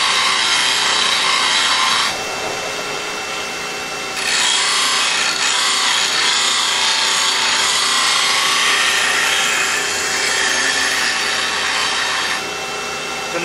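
Steel woodturning gouge being ground below its bevel on a grinder: a steady, loud, harsh grinding rasp that pauses briefly once and resumes, with no talking.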